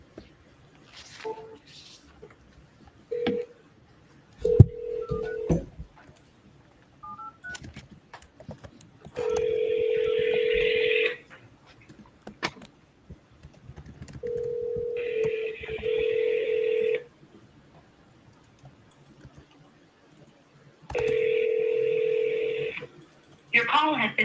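A phone call to Shirley Meyer: scattered keypad beeps and clicks, then repeated long ringback tones in regular bursts with quiet gaps between them, and brief voices in the gaps.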